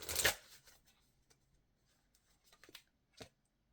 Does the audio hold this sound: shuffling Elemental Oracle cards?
yes